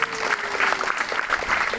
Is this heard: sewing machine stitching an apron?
no